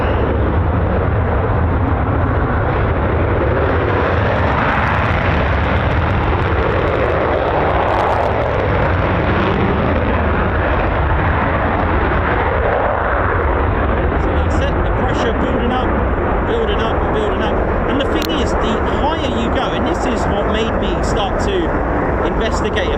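An F-15 or F-35 fighter jet at RAF Lakenheath with the 48th Fighter Wing takes off, producing a loud, steady broadband roar that fills the whole stretch, with faint voices in the background.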